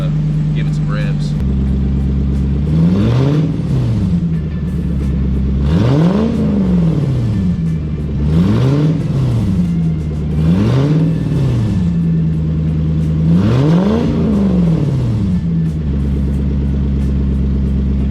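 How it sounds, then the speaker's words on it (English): Lexus SC400 drift car with a newly built exhaust, idling and then revved repeatedly in five rising-and-falling pulls before settling back to idle, loud and close. "I'll give it some revs."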